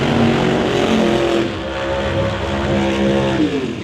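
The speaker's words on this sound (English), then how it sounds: "Here comes the next pair, and we got a pair of Mustangs." A pair of Ford Mustang drag racing cars roar at a drag strip during qualifying, a loud, sustained engine drone whose pitch shifts slightly over a few seconds, with no voices.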